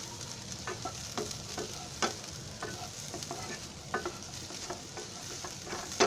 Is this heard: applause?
no